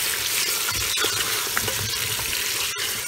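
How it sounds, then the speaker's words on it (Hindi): Bone-in meat hits fried onions in a cooking pot, giving a loud, steady sizzle with stirring scrapes and the occasional sharp clack of a utensil, with no voices. "अब मैं इसके अंदर डालूंगी गोश्त"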